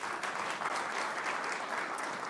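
An audience applauds at a live Birmingham AI event, with dense, even clapping that fills the room and holds steady from start to finish.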